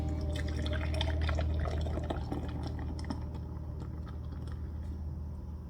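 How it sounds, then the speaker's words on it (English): Fruited sour beer, a 5.5% Counterpart Brewing Hypnotize, hard poured into a glass, giving a steady close splashing, gurgling pour that foams and fizzes, loudest early then easing into softer dripping and crackle. "I'm going to hard pour this one."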